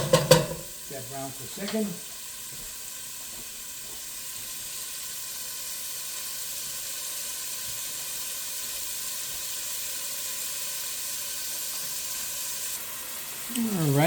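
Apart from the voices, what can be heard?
ground beef browning in a pan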